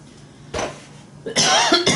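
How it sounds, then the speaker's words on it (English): A person coughs a few times while crafting a birthday card, short sharp bursts close to the microphone, with quiet room tone between them. "It seems like every time I start filming I start coughing."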